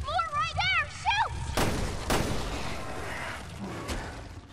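Resident Evil Revelations 2 gameplay opens with a warbling, chirping creature call, then two sharp loud gunshots go off about half a second apart, followed by lower rumbling game noise.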